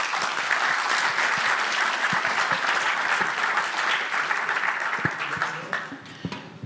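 An audience at an open source policy summit applauds a panel, full sustained clapping that holds strong for several seconds, then thins out into scattered individual claps near the end.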